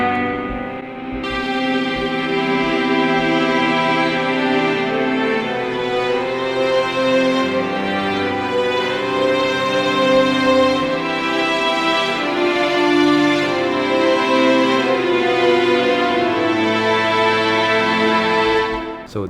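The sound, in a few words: amplified cello quartet chords from Spitfire Labs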